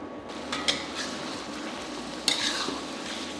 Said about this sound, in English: Let the sauce simmer and reduce.